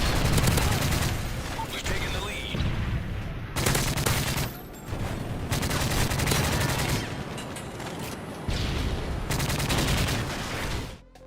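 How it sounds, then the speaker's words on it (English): A suppressed ACR rifle fires in Call of Duty: Modern Warfare 3, with several sustained bursts of rapid muffled shots separated by brief pauses, loud and close. "the Modern Warfare 3 ACR had an awesome firing sound when you threw the suppressor on it"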